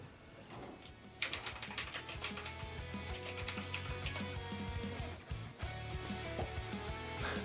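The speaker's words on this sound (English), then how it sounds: "Here, let me type something." Close fingers clatter across a computer keyboard in a quick, uneven stream of clicks with short pauses, no voices, and a faint hum underneath.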